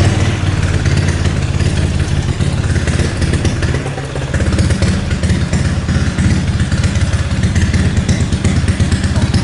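A modified Honda Wave 125 motorcycle with a four-valve head and 66 mm piston runs close by, its engine a loud, steady, rough idle and rev with a crisp clatter throughout, no voices.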